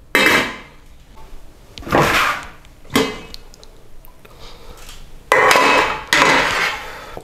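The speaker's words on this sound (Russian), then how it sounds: "мы кладем это в какую-то емкость и закроем это крышкой" Lid being set and pressed onto a container of freshly roasted, peeled peppers in a home kitchen, giving several sharp, close knocks and clatters with quieter handling between them.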